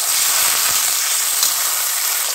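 Fried green peas hiss and sizzle in a hot pan while being stirred, a steady bright frying sound with a few soft scrapes.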